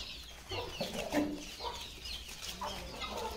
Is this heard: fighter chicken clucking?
yes